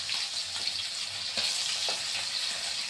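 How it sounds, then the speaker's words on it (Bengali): Fish fries in oil in a pan with a steady, dense sizzle, joined by a few soft stirring scrapes as the pieces are turned to brown, close and continuous with no voices. "দেখুন আমি কি করে ভাজছি, একটু ব্রাউন কালার আসছে মাছগুলো।"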